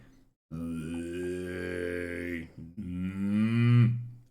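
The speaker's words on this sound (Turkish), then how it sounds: "Throat song. Gırtlak müziği." Mongolian throat singing: two long, loud, low droning vocal phrases rich in buzzing overtones, sung close up and separated by a short pause for breath.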